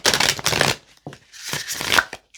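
An old oracle card deck is shuffled by hand in two quick riffling bursts separated by a short pause, crisp and close.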